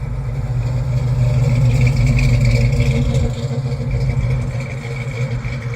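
A 1970 Chevrolet El Camino SS 454 with a 450-horsepower LS6 V8 rumbles steadily at a deep, even idle, heavier at first and then settling slightly, with no voices present.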